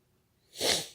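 A single short, breathy sniffle up close, rising quickly and fading within a second.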